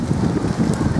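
Rain falls outdoors on an open field at a youth centre as a steady, dense wash of patter and hiss, continuous and fairly loud with a low rumble underneath.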